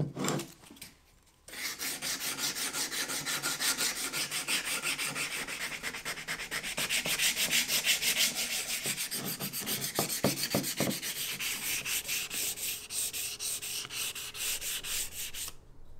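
Plywood handle scales are sanded by hand in long, steady rasping strokes that continue almost without pause, close and fairly loud, with no talking.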